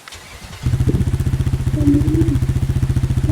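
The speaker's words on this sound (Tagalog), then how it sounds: "Try naman po natin tong motor." A motorcycle engine in a video game starts up after a brief quiet moment, then settles into a steady, loud, rhythmic idle. The throb pulses evenly and rises slightly in the middle, with no talking over it.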